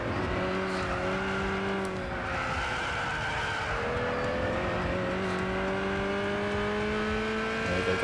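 A race car in Gran Turismo 6 drones at high revs, with the engine pitch sliding through shifts and tires squealing through a corner; other cars hum nearby, steady and loud, with no talking.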